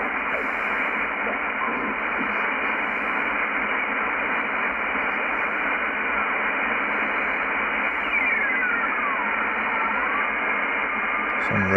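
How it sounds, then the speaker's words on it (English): Radio teletype signal received on shortwave through a Yaesu FTdx10 receiver with an outdoor V antenna: a constant, dense band-limited warbling buzz over static hiss, steady and loud for the whole stretch, with a faint sliding tone near the end. "Some radio teletype."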